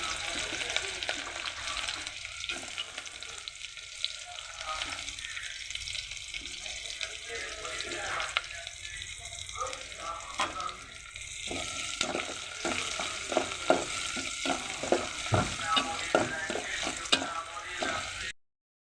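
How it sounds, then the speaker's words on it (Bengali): Chopped onions fry in hot oil with dried chili, cumin and bay leaf, giving a steady close sizzle with frequent scraping stir strokes that grow busier toward the end. "এখন এটা একটু ভাজা হয়ে গেলে এখানে আমি পরিমাণ মতো পেঁয়াজ কুচি দিয়ে দিচ্ছি"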